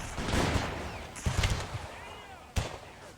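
Booming artillery and gunfire from a Crimean War battle at Sevastopol in a strategy game, with a rumbling barrage, then sharp reports around the middle and one more near the end, while faint voices sound underneath.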